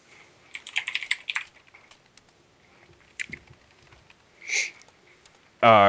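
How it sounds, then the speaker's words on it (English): Quick bursts of typing on a computer keyboard, a close cluster of clicking keystrokes followed by scattered taps, a brief sniff-like noise and a loud burst at the end, in a quiet room. "Sorry, typing and talking is hard sometimes."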